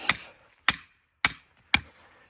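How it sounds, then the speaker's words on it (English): A sledgehammer drives a metal trap stake into the ground with four sharp, evenly spaced strikes, each a close, crisp impact with a short decay. "take your sledge, start driving that down in"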